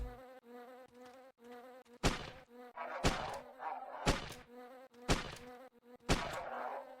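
Wasps in the video game Entropia Universe, hunting on Cyrene, give a steady, close, droning buzz, broken roughly once a second by sharp thuds or hits.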